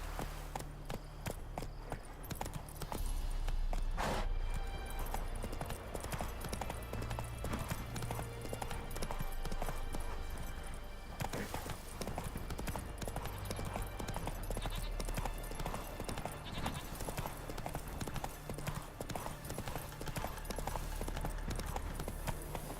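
Horse hooves clip-clop steadily in Witcher 3, a rhythmic trotting beat that runs for the whole stretch over a dense game soundscape of music and ambience, loud and close.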